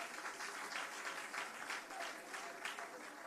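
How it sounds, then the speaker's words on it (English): A crowd at a government townhall applauds the mayor, a continuous spread of many hands clapping, heard faint and somewhat distant at a steady level. "Give him a round of applause,"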